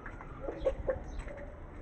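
An Aseel rooster loose in a backyard clucks twice, short and low, over faint background noise.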